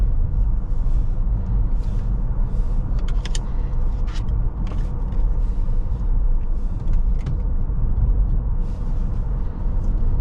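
Inside a 2022 Tesla Model S Plaid accelerating on a test drive, a constant low cabin rumble and road roar continue throughout, with faint intermittent rattles and whooshes above it.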